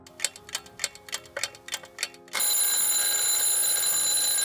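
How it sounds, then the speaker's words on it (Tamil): An alarm clock ticks in quick, uneven beats, then bursts into a loud, continuous ringing that holds steady until the end, close and clear with no voices. "அடிச்சது ஒரு அலாரம்."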